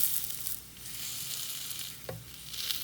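Sooji cheela fries in a pan with a steady, close sizzle, broken once by a brief scrape partway through, with no talking.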